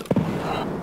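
A grenade going off in Escape From Tarkov, a brief sharp pop followed by a quick second burst and a short crackling, muffled tail, all within under a second.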